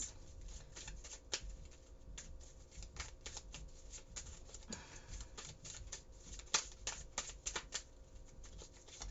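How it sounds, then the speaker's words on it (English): Tarot cards being shuffled and pulled from the deck, a steady close riffling and flicking with sharp snaps scattered throughout, no talking. "we're going to go ahead and pull 3 more cards for the future energy of the universal records, guidance"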